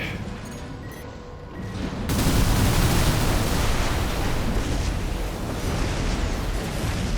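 Missile explosions in the Armored Core 6 video game: after two seconds of quieter ambience, a loud, dense roar of blasts and rumble takes over and continues to the end, with no talk.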